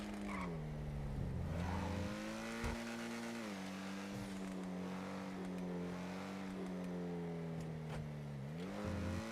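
A supercar engine in the game FiveM drones loud and close, its pitch rising and falling as the car accelerates, shifts and slows, with occasional brief tire noise. No voices come through over the engine.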